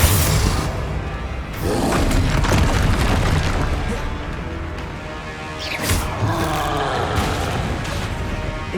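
Repeated Confringo fire-spell blasts from Hogwarts Legacy, deep booming bursts with crackling debris rolling under a steady, loud game soundscape across the whole stretch.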